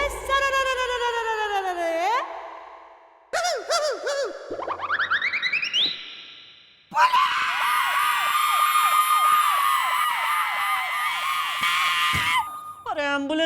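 Wailing, siren-like sweeps imitate an ambulance siren at a police post, repeating in fast rising and falling warbles and mixed with cartoonish boing-like sound effects, loud and close, in short bursts with brief gaps between them.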